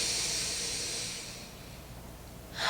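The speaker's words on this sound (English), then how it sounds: "In through the nose and out of the mouth, nice and loud." A loud cleansing breath during a yoga flow: a long, forceful exhale out through the mouth fades away, then a sharp inhale through the nose begins at the end. The breath is close and breathy, with no other sound.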